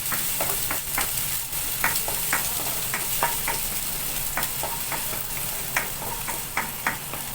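Sautéing in a pan, likely ginger with onion about to go in: a steady bed of sizzle runs throughout with repeated scraping clicks of stirring scattered across, close and fairly loud, no voices.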